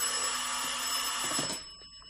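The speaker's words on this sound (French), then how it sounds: "Tu vas pas entrer en tranche chaque fois que le téléphone sonne" An old-fashioned telephone bell rings loudly in a French radio mystery drama, a continuous bright jangle that cuts off after about a second and a half, leaving near silence.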